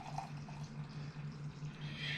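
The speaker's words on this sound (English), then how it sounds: "we pour our hot cocoa." Hot cocoa poured from a pot into a snowman mug bought at a dollar store, a steady liquid stream with a low hum running underneath and a brighter splashing rise near the end as the mug fills.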